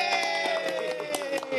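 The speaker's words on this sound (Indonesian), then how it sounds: "Kita tepuk tangan dulu sebenarnya." Audience clapping in short bursts, moderately loud and brief, layered over a sustained musical tone and some voices.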